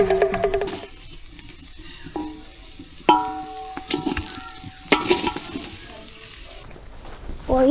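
Food frying in a pan sizzles while being stirred, with intermittent scraping, and voices and tonal sounds play over the cooking noise.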